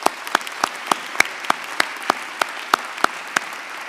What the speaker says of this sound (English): Please join me in a round of applause for all our class representatives.